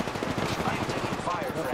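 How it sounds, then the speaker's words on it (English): Automatic gunfire in the Apex Legends video game rattles in a fast, continuous burst, loud and close, with a voice faintly mixed underneath. "I am taking fire"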